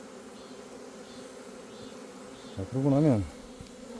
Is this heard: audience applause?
no